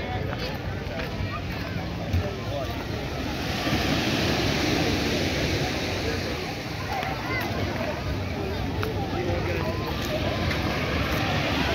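Steady surf at Pebbles Beach in Barbados rolls in under wind buffeting the microphone, a continuous washing roar with a person talking over it.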